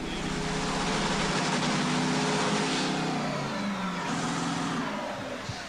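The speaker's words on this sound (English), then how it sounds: "Shirley Muldowney has just completed warming up the car to face Joe Amato in round number 2" A top-fuel drag racing car belonging to Shirley Muldowney, at a 1989 NHRA national event, roars loudly and steadily as its engine warms up, a dense continuous drone filling the whole stretch.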